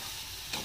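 Loitta fish frying in hot oil, a steady bright sizzle throughout with a brief louder crackle near the end.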